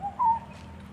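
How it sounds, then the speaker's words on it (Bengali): A single soft whistled call from a bird in a forest of cashew, mahua and flame of the forest trees, brief and clear against a quiet, low rumbling background. "আপনারা শুনতে পাচ্ছেন পাখি ডাকছে।"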